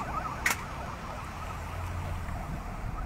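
Fire engine sirens wail faintly in the distance as the trucks arrive at a fire near the Nuba club in Mamaia Nord, rising and falling under outdoor street noise.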